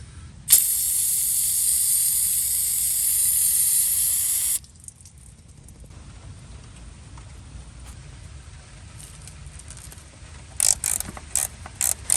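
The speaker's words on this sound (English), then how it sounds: "We gotta spray those down really good." A loud, continuous spray-can hiss on the starter bolts of a Ford F-250 truck lasts about four seconds, then quieter mechanical clicks and a few sharp taps follow.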